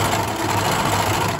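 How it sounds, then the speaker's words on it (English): A sewing machine stitches fabric in free motion embroidery with a free motion foot, a steady fast mechanical whirr and rattle held constant and close throughout, with no talk. "just put your free motion foot behind it and just sew"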